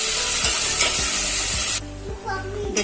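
Ginger garlic paste sizzles and fries in a pan for mutton marag, a loud steady hiss with a spoon scraping and stirring in regular strokes; the sizzle drops sharply partway through, leaving quieter stirring and bubbling.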